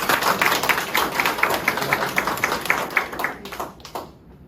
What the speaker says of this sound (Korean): 다 박수 한번 부탁드려요